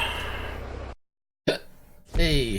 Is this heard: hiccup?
yes